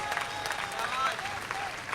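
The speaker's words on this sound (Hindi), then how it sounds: "आपकी तालियां कमजोर है मेरे भाई" Audience clapping at a Hindi comic poetry gathering, a steady moderate patter of many hands filling the short moment, with faint voices underneath.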